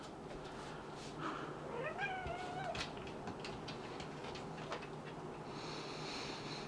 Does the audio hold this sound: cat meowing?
yes